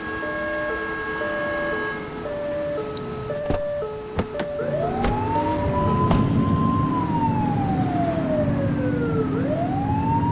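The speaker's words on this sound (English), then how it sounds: "Turn that siren off." A police siren in the video game The Precinct wails in long rising and falling sweeps after a busy stretch of game sounds and tones, loud and close with a steady engine-like rumble beneath.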